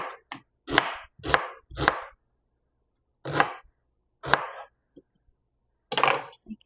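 An onion sliced with a knife on a cutting board, a series of distinct, crisp chops in uneven bursts with short silences between, close and clear with no talking.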